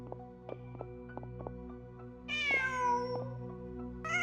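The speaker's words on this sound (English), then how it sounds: "Just a cat." A cat in Genshin Impact meows in a drawn-out, falling call near the middle, then starts a second meow at the end, over a steady background music bed with soft plucked notes.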